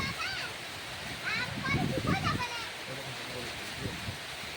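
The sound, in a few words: rain falling in Rajasthan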